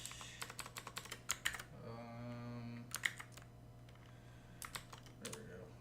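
Rapid typing on a computer keyboard during a cybersecurity coding session, close-up clusters of sharp key clicks that pause briefly mid-way and then resume, over a low steady hum.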